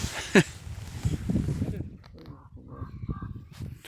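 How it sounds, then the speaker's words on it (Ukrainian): A crow caws sharply near the start, followed by quieter rustling and faint voices murmuring in the background. "Ворони каркають."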